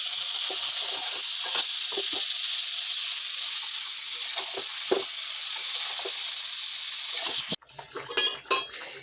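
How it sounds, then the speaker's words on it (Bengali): Onion frying in a pan with dried chilli, turmeric and salt, a loud continuous sizzle with faint stirring knocks, cutting off abruptly near the end before softer clattering. "কাঁচা পেঁয়াজের গন্ধটা শেষ না হওয়া পর্যন্ত একটু কষিয়ে নেব।"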